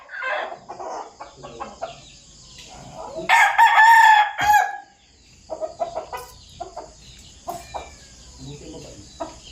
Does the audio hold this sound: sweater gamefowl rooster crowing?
yes